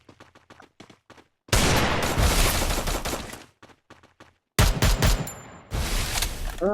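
Gunfire in the video game Free Fire: a few sparse shots, then two loud sustained bursts of rapid automatic fire separated by brief quieter shots, close and dominant.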